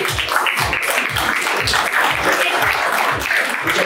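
Audience applause at the opening of a new Ford dealership in Quito, sustained, full clapping from a crowd, loud and even without a break.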